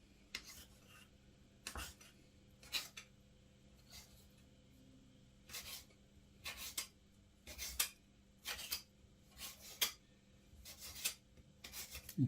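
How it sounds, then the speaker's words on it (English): Knife slicing bacon into tiny pieces on a board, a rhythmic series of short, crisp cutting strokes, close and fairly quiet, with no talking. "And just keep going until all the bacon is in tiny pieces"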